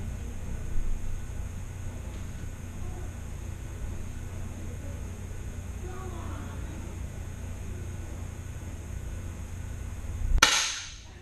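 A single sharp gunshot cracks near the end of a narrated shooting practice session, sudden and loud against a steady outdoor hiss of background noise, with no talking at that moment.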